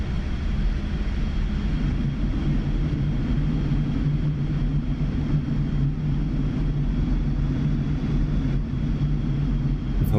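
MiG-29 jet in the DCS flight simulator slowing for landing: a steady, moderately loud engine drone with a low hum, constant and unbroken throughout with no talk.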